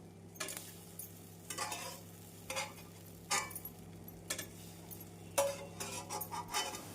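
Jalebi coils deep-frying in hot oil give a steady low sizzle, broken by repeated bursts of stirring and metal utensil clinks against the pan, with no talk.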